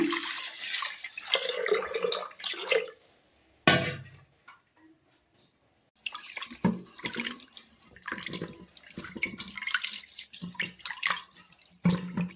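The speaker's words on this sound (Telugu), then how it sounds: "మళ్ళీ ఇంకొకసారి మంచినీళ్ళు పోసి కడుక్కుందాము." Broken rice is washed with water in a vessel, with bursts of splashing and swishing, a sharp knock, short pauses and trickling, close by and with no talking.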